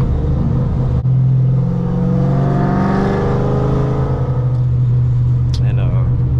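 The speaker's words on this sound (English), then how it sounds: "Downshift." Loud, continuous engine rumble from a cammed S197 Mustang GT, revving and swelling as it downshifts, steady low drone throughout with a brief sharp pop near the end.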